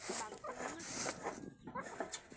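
Chickens cluck and squawk nearby in short, irregular bursts, with some high chirps over a quiet outdoor background.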